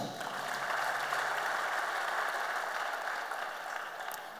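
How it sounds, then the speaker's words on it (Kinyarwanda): A church congregation applauds together, a steady, dense wash of clapping that holds at an even level from start to finish with no voices over it. "Reka tuyongere amashyi."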